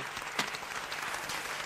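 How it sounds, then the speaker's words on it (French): A crowd at a tribute concert honoring Noël Ekwabi breaks into applause, a continuous wash of clapping at moderate distance, fairly soft and even, with no voices on top. "Je vous demande d'applaudir très fort pour elle."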